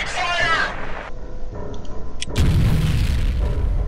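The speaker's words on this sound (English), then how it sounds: "I kind of want to just grenade him" A grenade explodes in the video game F.E.A.R., a loud booming blast that swells from about halfway through and rumbles heavily to the end, following a voice and some gunfire-like pops.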